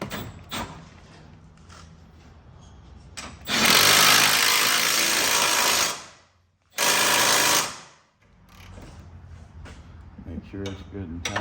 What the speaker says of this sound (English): Now we just gotta tighten up our main bolt here on the control arm